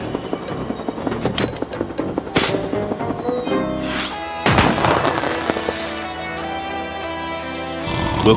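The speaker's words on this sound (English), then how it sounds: "Will Carl wake up and see the fireworks" Cartoon fireworks bursting over a city: a rapid series of loud crackling explosions and booms with whistling rockets rising between them, layered with music.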